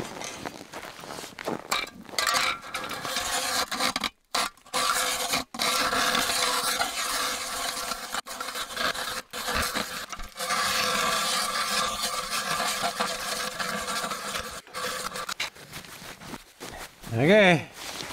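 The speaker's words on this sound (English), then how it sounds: "But let's keep drilling." Ice being drilled through by hand during solo winter storm camping: a steady, coarse scraping grind runs almost the whole time, briefly stopping a few times, with a short squeaky sound near the end.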